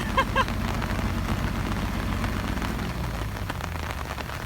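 Steady heavy rain pours down across an outdoor work site on a flooding track, a dense, continuous hiss with a brief louder patch near the start.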